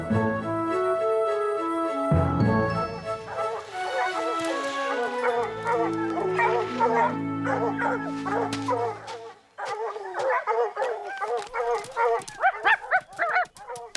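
Galopin, a new little puppy, yips, whimpers and gives short high barks in quick bursts, whiny and close, with a musical backing and a brief pause before the yelping resumes.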